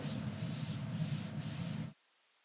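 A short burst of scraping and rubbing as an inked stamp is pressed down onto a kitchen towel, close and fairly quiet, lasting under two seconds before stopping.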